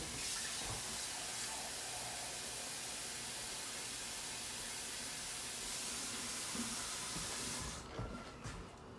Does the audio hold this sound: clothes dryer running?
no